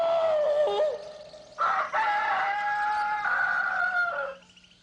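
Man imitating a rooster crowing with his voice, a long wavering cock-a-doodle-doo call with a sharp break in the middle, loud and close, then trailing off.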